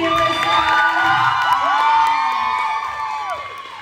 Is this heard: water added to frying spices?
no